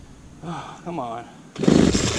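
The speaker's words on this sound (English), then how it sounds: "Yep, she's flooded. It just sputtered." A flooded string trimmer engine that has sat unused for a long time sputters in a short, rough, close burst right after someone speaks.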